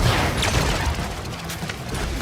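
Rapid gunfire and booming impacts from Deadshot laying down cover fire in the video game Suicide Squad: Kill the Justice League, a dense, sustained barrage with crashing hits throughout.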